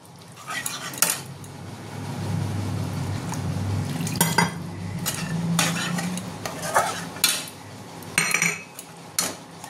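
Spiced masala with whisked sour curd and salt being stirred in a pan, with repeated scraping clinks of a metal spoon against the pan over a soft sizzle, no talk.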